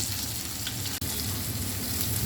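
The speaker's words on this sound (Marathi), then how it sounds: "तेल कधी पण पहिले चांगलं तापून द्यायचं मगच मासे सोडायचे" Ravas fish frying in well-heated oil, a steady dense sizzle with crackling that runs continuously throughout, broken only by a brief momentary dropout midway.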